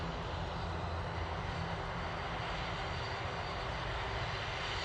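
A Virgin airliner taxiing at Manchester Airport, heard as a steady, distant engine whine and roar with a broad constant rumble that holds unchanged throughout, no voices over it.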